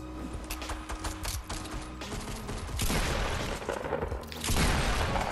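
Shotgun blasts and other gunfire in the video game Fortnite Battle Royale, with a dense, continuous run of loud, close booming shots and mechanical clatter.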